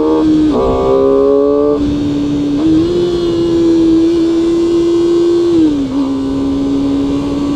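A QJMotor SRK 250RR four-cylinder motorcycle engine holds a steady, loud high idle, its pitch dipping and rising slightly a few times, close by.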